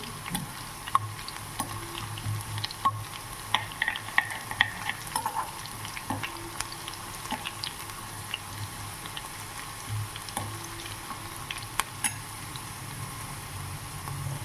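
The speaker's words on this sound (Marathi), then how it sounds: "लसूण छान फ्राय झालेलं आहे।" Garlic frying in a pan for a tangy besan and buttermilk curry, a low steady sizzle with soft scattered crackles and occasional spoon stirring, close and moderately quiet throughout.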